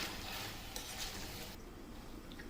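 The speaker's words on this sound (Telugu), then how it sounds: "ఇది కూడా బాగా ఆయిల్లో ఫ్రై అవ్వాలి." Masala for a prawn curry frying in oil in a pan, a close, steady sizzle with stirring scrapes and light clinks, easing off and growing quieter toward the end.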